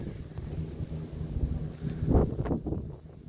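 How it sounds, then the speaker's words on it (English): Wind on the Bay of Fundy shore buffets the microphone in low, rumbling gusts that rise and fall, with a stronger blast midway; no one speaks. "Yeah, it's a little windy."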